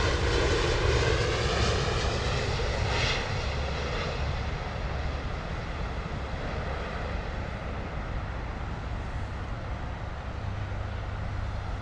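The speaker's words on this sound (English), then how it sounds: "Beautiful flare there from the Dreamliner, eh?" A Boeing Dreamliner landing at London Heathrow gives a steady, loud roar of jet engines with a broad rushing wash that holds through the whole stretch, close and unbroken.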